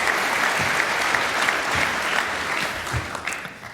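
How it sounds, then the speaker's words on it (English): Audience applause for a speaker at a security conference talk: steady, dense clapping from a crowd sustained throughout, fairly loud and continuous with no voices over it. "give him a warm round of applause"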